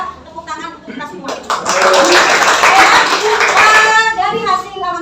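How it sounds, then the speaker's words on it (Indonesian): A class of schoolchildren applauds after a group presentation with steady clapping for a few seconds, and children's voices can be heard before and after it. "tepuk tangan untuk kita semua"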